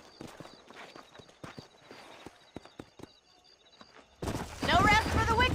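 Horse hooves clip-clop in rhythmic steps in a Red Dead Redemption western game scene, sharp taps spread across the first seconds before a louder burst of game voices and noise takes over.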